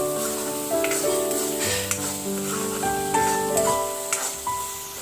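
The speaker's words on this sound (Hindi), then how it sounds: "यहाँ पे जो अपना मसाला है वो अच्छे से पक रहा है।" Salted masala cooking in oil in a pan for a karela, chana dal and urad dal sabzi, a steady close sizzle with occasional stirring clicks under a tonal background melody.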